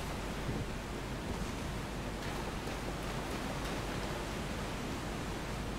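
Quiet, even waterfall ambience from Elden Ring, a soft continuous hiss of falling water with no clear peaks or voices, steady throughout.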